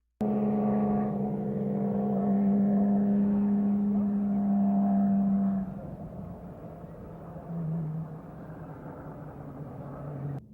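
Porsche race cars drive on a wet, rainy track, a steady loud engine drone for several seconds that then drops to a quieter, lower rumble as they move on, with no talk.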